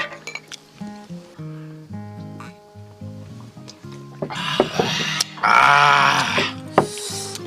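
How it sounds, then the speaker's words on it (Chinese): Glasses clink in a toast among friends sharing a meal of stuffed tripe with drinks. After some voiced, tonal sounds, a dense burst of clinking and clatter builds and then ends in a final sharp clink. "来，哥儿几个干一杯，"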